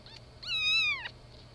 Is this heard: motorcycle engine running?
no